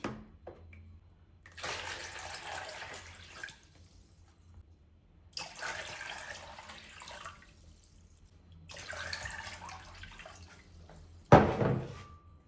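Water pours into a pot of plums for jam in several separate bursts, each a few seconds of rushing splash, followed by a short sharp clatter at the end.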